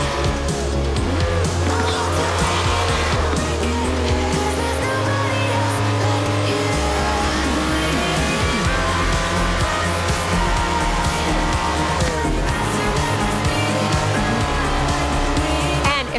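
A Lamborghini Countach roars through a race in Forza Horizon 4, its engine droning loud and steady with shifting revs, tire squeals and skids breaking through the constant motor noise.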